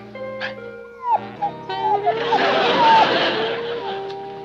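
A small dog yips and whimpers in short high bursts over a noisy background with music-like tones.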